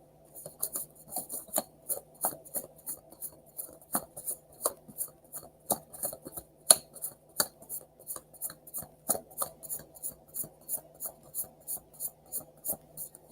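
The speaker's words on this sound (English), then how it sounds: "That was a good shuffle." A Light Seers tarot deck being riffle-shuffled close by: quick crisp card snaps and flutters in a steady repeating rhythm over a quiet background, with no talking.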